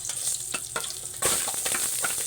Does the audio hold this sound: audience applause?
no